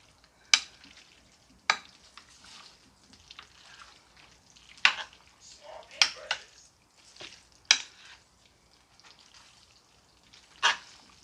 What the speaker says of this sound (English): So then you just stir your pasta in